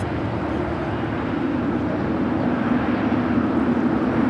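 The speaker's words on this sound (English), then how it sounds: "Air France Flight 22 coming up from Paris" An Air France Flight 22 airliner arriving from Paris at LAX produces a steady, loud jet roar that holds level and broadband throughout without a break.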